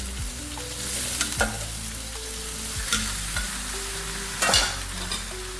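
Genjer fruit stir-fries in sambal belacan, a continuous close sizzle broken by a few scraping strokes of a spatula against the pan, with no voices.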